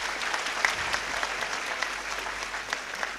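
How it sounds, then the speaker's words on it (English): An audience at an awards event applauds, a steady wash of many hands clapping, moderately loud and sustained, with a few sharper claps standing out. "can we have a big round of applause for Mr. Dempo?"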